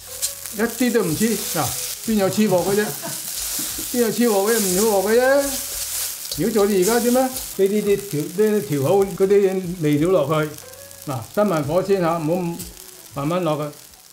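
Chow mein noodles fry in a hot pan with a constant hissing sizzle that runs beneath continuous speech from start to finish.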